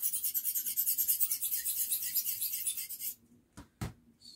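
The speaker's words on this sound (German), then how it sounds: "Wir brauchen noch den Schleifstein." Blade sharpened on a whetstone makes rapid, rhythmic rasping strokes, loud and close, then stops and leaves two sharp knocks in near silence.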